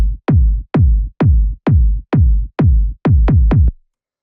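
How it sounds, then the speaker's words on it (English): A big boomy 909-style techno kick drum, low-passed, at 130 BPM, hitting about nine times in a steady pulse with a quick double near the end, loud and dry with no talking. "So this is your pretty standard, big, boomy, 909 style techno kick"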